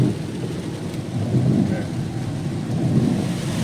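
Steady rain falls on New Year in Rhodes, Greece, heard from a motorbike on the road, a dense constant hiss with a low rumbling undertone.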